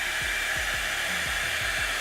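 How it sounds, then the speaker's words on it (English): A Revlon Pro round-brush hair dryer volumizer blows steadily as it dries hair, with a constant airy whoosh and motor hum broken by a few soft rhythmic brushing strokes. "it's blow drying at the same time"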